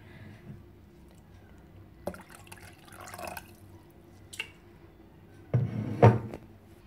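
Prepared baby food, part of a meal for infants aged 5 to 8 months, is added to measured water in a pot: faint drips and soft liquid splashes, closing with a louder wet splash and plop.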